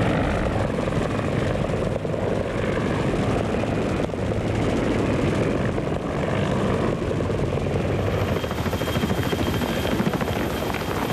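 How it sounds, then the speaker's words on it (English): Evacuation helicopters come and go at Saigon during the 1975 fall of the city, their loud, continuous rotor thump and engine roar filling the air without a break. "We really had a sort of a daisy chain of helicopters that were constantly coming in, picking up, leaving"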